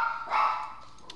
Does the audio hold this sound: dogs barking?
yes